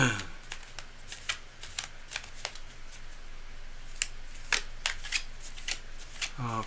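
Tarot cards are shuffled by hand nearby in a quick run of crisp riffles and flicks, repeated in irregular bursts, with a voice speaking briefly at the start and end.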